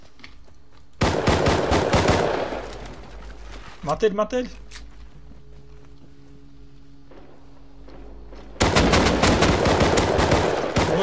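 Two loud bursts of rapid automatic gunfire in the video game Rust bracket a quieter stretch, with a voice calling out briefly in Portuguese in between.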